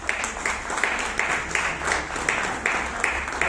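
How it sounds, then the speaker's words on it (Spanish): An audience at a book presentation in Taxco, Guerrero applauds in light, evenly pulsing claps for a few seconds, faint and somewhat distant. "pido como quiera un aplauso"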